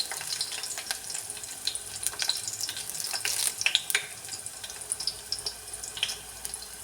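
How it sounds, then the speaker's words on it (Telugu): Chopped onions frying in a pan, a continuous crackling sizzle with scattered sharp pops throughout, close and fairly loud. "కట్ చేసి పెట్టుకున్న ఉల్లిగడ్డల్ని వేయాలి. ఒక నిమిషం పాటు ఫ్రై అవ్వనివ్వాలి."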